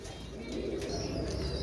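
A male golden single pigeon coos softly at close range, a low rounded murmur over a steady background hum, with no speech.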